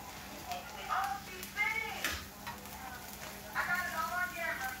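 Onions frying in a pan sizzle steadily while a spatula stirs them now and then, with voices talking over the cooking.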